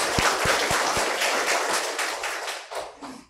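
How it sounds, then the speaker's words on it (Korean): A church congregation in a Sunday worship service applauds the choir, with dense clapping and a few sharp individual claps near the start, fading out toward the end. "우리 성가대 찬양대를 위해서 한번 박수로 격려합시다."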